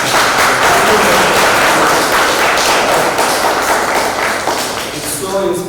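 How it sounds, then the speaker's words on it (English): An audience at a quantum computing talk gives the speakers a loud round of clapping with scattered taps and thumps, the applause fading toward the end as a voice begins to speak. "I request all of you to give a big round of applause."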